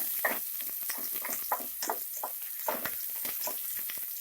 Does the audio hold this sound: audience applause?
no